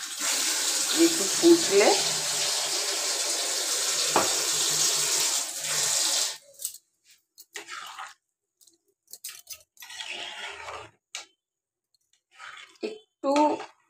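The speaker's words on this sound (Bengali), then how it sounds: "আরেকটু ওর মধ্যে জল দিয়ে দেবো" Water pours steadily from a tap into a curry pot in a home kitchen and runs for several seconds. After it stops there are a few scattered splashes and clinks, and a person speaks briefly.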